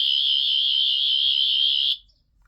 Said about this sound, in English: in a minute it will beep at you. There it is.